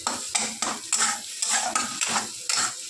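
A cumin, chili, ginger and coconut paste is stirred in a cooking pan, with repeated scraping strokes of a spoon against the pan at an even rhythm and a light sizzle underneath.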